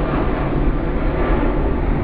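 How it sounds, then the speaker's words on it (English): An airplane passes overhead as a steady, broad engine roar that holds evenly loud throughout, with no talking over it. "Airplanes."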